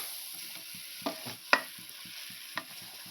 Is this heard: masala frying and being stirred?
yes